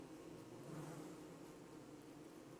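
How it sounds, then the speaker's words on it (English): Killer bees buzzing in the video game Don't Starve Together, a steady droning hum that is faint and continuous throughout, with no other sounds. "There are killer bees everywhere"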